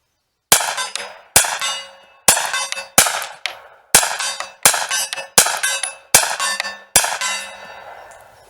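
Ten sharp 9mm shots ring out from a Ruger PC Carbine take-down rifle at a steady pace of roughly one per second, each loud crack trailing a short echo, with a longer ring fading after the final round.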